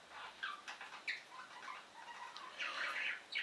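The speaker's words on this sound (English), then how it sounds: "like when my bird is shouting at me" A pet bird squawks and chatters in a run of short, harsh calls, moderately loud and close, with a longer burst of noisy screeching near the end.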